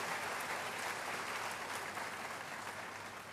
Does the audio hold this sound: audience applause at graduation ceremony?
yes